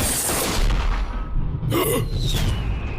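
Two gunshots in an anime scene, heard as booming blasts over a rumbling backdrop, with a sharp crack near the middle followed by a ringing tail.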